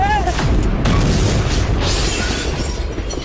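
A Diwali firecracker bursting nearby with a loud boom that rolls into a long, dense crackling rumble, with voices faintly mixed in.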